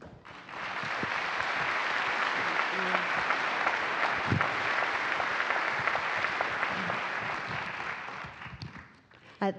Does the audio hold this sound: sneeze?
no